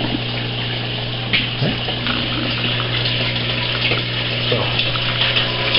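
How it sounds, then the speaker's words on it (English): Water drains steadily through an inch-and-a-half pipe with a uniseal fitting and pours into a bucket in a home aquaculture system, a continuous close gushing trickle over a constant low pump hum. "Water's draining down in the bucket."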